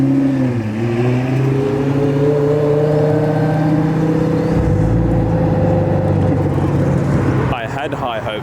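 A loud supercar engine, such as a Ferrari Enzo, F8 or straight-piped Gallardo, droning and rising in pitch on an Australian road, holding a strong steady tone before shifting near the end.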